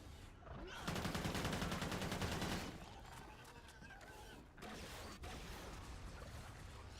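Rapid AK-12 assault rifle bursts in a video game, a loud dense burst of automatic fire followed by sparser shots and mechanical clatter, continuing steadily to the end with no talking.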